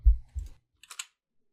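Computer keyboard keys pressed during Premiere Pro editing: a couple of dull low thumps, then a quick cluster of three light clicks, close and alone.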